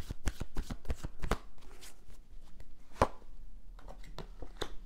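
A deck of tarot cards is shuffled by hand up close, with bursts of crisp flicking and slapping card sounds in quick irregular runs, then sharper single taps and a brief pause.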